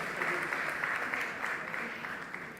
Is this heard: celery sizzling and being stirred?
no